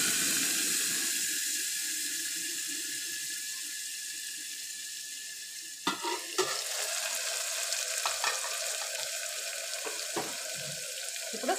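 Spring onions tipped into hot oil with mustard seeds and cumin for dal, a loud steady hiss that shifts to crackling sizzle with scraping stirs after they hit the oil, close and without talk.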